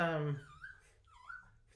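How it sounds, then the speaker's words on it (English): A small puppy whimpers and cries in short, thin, rising whines, close by and fairly soft, following a brief burst of louder nearby vocal sound at the start. "you can hear my other little pup Percy crying"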